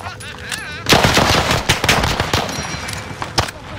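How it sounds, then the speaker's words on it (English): Rapid video-game gunfire erupts in loud bursts of shots, with a sustained volley near the start and scattered sharp reports after, close and dominant over a faint electronic background. "Taking fire here."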